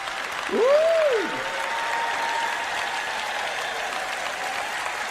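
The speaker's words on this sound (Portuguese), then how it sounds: "Vamos, aplauda o Senhor" Church congregation applauding in a steady, dense wash of clapping, with a single short whistle rising and falling early on.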